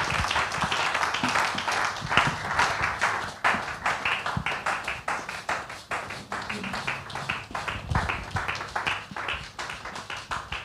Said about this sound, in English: If you are clapping for this small boy, it's too much.